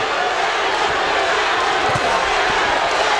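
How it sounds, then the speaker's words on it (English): Boxing fans in a fight arena chant in unison for Reggie Greene, a loud, dense, steady crowd roar filling the space without a break. "In very loud fashion, the fans chanting in unison for Reggie."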